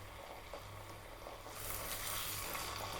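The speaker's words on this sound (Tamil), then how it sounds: "இதே போல் எல்லாமே பொரிச்சு எடுத்துடலாம்" Wheat gulab jamun dough deep-frying in oil for a Diwali snack, a soft continuous sizzle with faint bubbling that swells louder halfway through, heard alone and fairly quiet.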